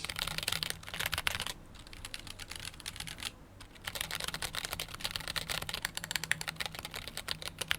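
A mechanical keyboard with T1 switches, SA profile keycaps and a plastic case is typed on in rapid runs of deep clacky keystrokes, with two short pauses, close up and fairly quiet.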